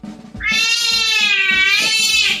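A little kitten lets out one long, loud, drawn-out meow close by, rising and falling in pitch, with faint rustling before it.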